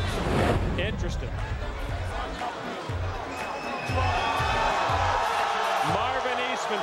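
Home crowd in a Las Vegas fight arena cheering for Marvin Eastman during a Ray Sefo bout, a steady roar of distant voices and excited shouting that swells toward the end, filling the whole stretch.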